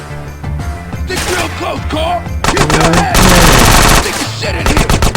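Rapid automatic gunfire bursts from GTA San Andreas Definitive Edition, loud and dense, layered over game music with several sharp volleys in a row.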